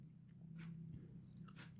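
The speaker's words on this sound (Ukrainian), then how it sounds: "Я ее не сразу выпиваю, я ее разжевываю." Someone chews a dietary supplement capsule instead of swallowing it whole, producing faint, close crunching bites at irregular intervals over a low steady hum.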